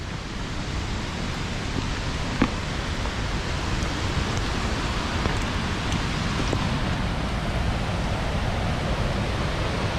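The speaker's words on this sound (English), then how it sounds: "here we are at Nooksack Falls, hanging out on a rainy day" Nooksack Falls roaring steadily on a rainy day, a dense, constant wash of falling water at even loudness throughout, with no pauses or breaks.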